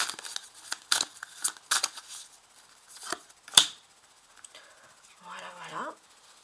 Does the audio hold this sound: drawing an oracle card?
yes